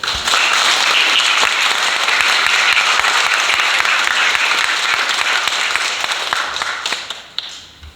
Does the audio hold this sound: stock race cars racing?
no